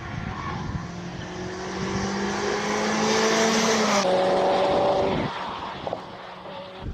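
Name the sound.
Evo 2-liter 16-valve all-wheel-drive car racing at hillclimb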